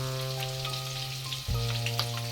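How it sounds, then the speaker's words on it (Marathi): Garlic and curry leaves frying in hot oil in a pan for a spicy amti, a close, steady crackling sizzle that swells as the leaves go in, under a constant low hum. "लसूण चांगला भाजून द्यायचा आहे लाल होऊन द्यायचा आहे त्यात आपण कढीपत्ता टाकून घेऊया"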